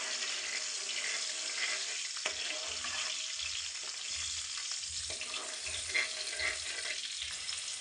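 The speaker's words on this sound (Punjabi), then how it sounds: "ਲਸਣ ਨੂੰ ਆਪਾਂ ਹਲਕਾ ਜਿਹਾ ਫਰਾਈ ਕਰ ਲੈਂਦੇ ਹਾਂ" Garlic fries lightly in a pan for a gobi kofta curry, a steady soft sizzle with occasional stirring clicks and scrapes, heard alone and fairly quiet.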